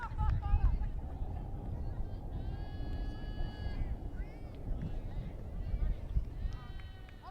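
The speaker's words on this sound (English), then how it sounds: "Wind is blowing in this game today" Wind gusting at an intermediate youth baseball game between the Royals and Dodgers, a loud, continuous low rumble buffeting the microphone throughout, with high bleat-like squeals over it.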